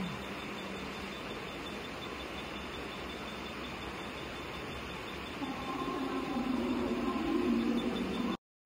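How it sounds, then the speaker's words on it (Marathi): Onboard a moving train, a steady rumbling hum of the carriage fills the clip, growing a little louder with a rising tone near the end before cutting off abruptly. "ट्रेननी चाललो."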